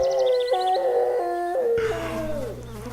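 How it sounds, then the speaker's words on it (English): From inside a building, a dog lets out a long, desperate howl, a clear wavering cry that rises and falls in steps before trailing off. "from within one of the buildings, you hear a long, desperate howl"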